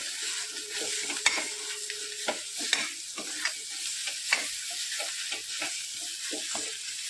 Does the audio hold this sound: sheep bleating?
no